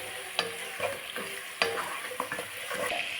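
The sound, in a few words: onion being sauteed and stirred in a pan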